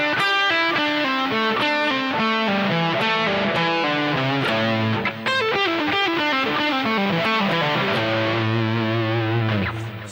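A distorted electric guitar plays a pentatonic lick descending in groups of five, taken slowly with pull-offs, a long steady stream of distinct notes stepping downward, loud and close with no voices.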